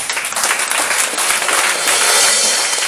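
A church congregation at an Easter service applauds, a dense and steady wash of many hands clapping throughout, loud and close.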